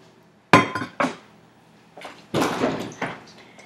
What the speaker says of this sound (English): I'm going to bring my pan with the filling over here closer to my work area